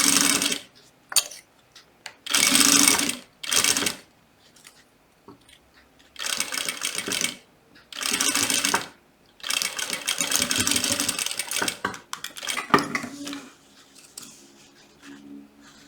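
A sewing machine fitted with a zipper presser foot runs a safety stitch in bursts: loud, close whirring runs of one to two seconds, separated by pauses, with small clicks and handling noises between them.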